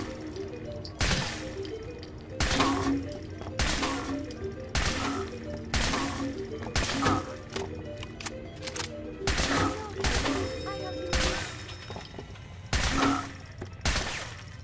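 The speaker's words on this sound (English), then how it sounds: "Just take out a weapon and shoot them as they pop." Repeated bursts of gunfire ring out at pop-up targets in the Nuka-Cade arcade of Fallout 4, loud close volleys recurring roughly every second or two with short gaps between them.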